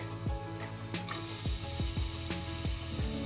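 Garlic frying in olive oil in a pan for a tomato seafood pasta: a steady, close sizzle runs throughout, with a few soft stirring clicks and faint sustained tones in the background.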